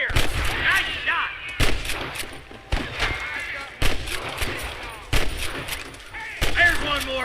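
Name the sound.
gunfire in Red Dead Redemption video game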